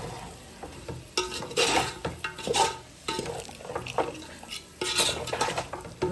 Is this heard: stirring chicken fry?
yes